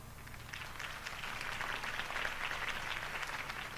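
Crowd applause at a campaign rally for Harvey Dent in Batman: The Telltale Series, a steady wash of many hands clapping at moderate volume, sustained without pause and set slightly back in the scene.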